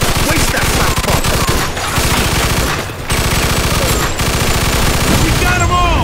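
Rapid, loud automatic gunfire from a shootout in Mafia II rattles nearly nonstop in dense bursts, with a brief lull midway and shouting voices mixed in.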